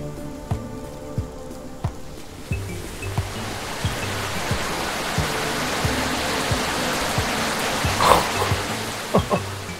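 Rain in the video game Tukoni falls as a steady, hissing wash that grows fuller partway through, with soft game tones and occasional sharp droplet ticks layered on top, continuous for the whole stretch.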